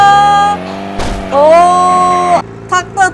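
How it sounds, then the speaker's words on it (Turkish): In the Simple Car Crash Physics video game, a car engine at full throttle runs toward a barrier jump, a loud sustained whine that rises in pitch, drops, climbs again and cuts off, followed by short revving bursts. "Şimdi ortadaki bariyerden atlamaya çalışıyoruz. Son sürat hızla. Tam gaz."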